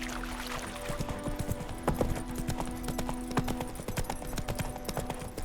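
Geralt's horse Roach in The Witcher 3 gallops on a forest road, a fast, even thud of hooves with a creak of tack, close and moderately loud, with no voices.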